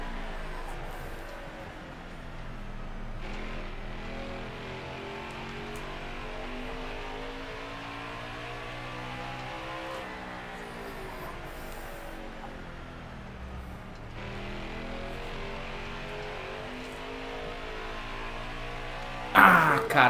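Race car engine in the NASCAR Heat 5 video game, a continuous loud drone with repeated rising and falling revs as the car shifts and accelerates, a brief sharp burst near the end.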